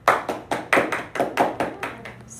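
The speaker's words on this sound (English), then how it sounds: "Clap it up for me." A small group in a classroom claps about ten times in an even, quick rhythm, each sharp burst close and distinct, with no talking.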